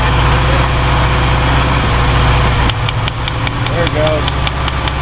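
A 1960 Ford Falcon Ranchero that sat unused for 20 years is coaxed to life, its engine loud and rough with a steady rumbling idle that changes character midway, while people talk nearby.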